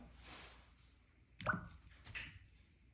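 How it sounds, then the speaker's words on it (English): A paintbrush is rinsed in water during a painting lesson, giving soft, close splashing drips in two short bursts over a quiet background. "Trying to rinse my brush pretty thoroughly"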